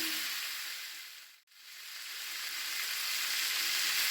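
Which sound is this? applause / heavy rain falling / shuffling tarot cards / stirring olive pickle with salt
stirring olive pickle with salt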